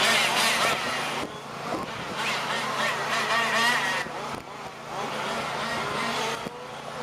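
Fifth scale gas-powered race cars of about 24 pounds run laps at the DeSoto Grand Prix, their small engines buzzing and whining as they pass, rising and fading at moderate distance in open outdoor air.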